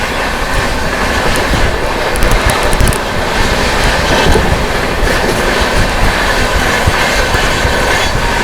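The New Delhi–Patna Rajdhani Express passes close by a moving train, a loud, dense, continuous roar of wheels with rapid clickety-clack rail joints and faint squeals throughout.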